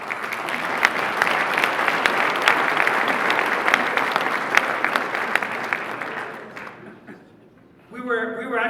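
Sustained audience applause fills an evening State of the Union event hall, a dense steady clatter of many hands that fades out near the end before a voice begins speaking.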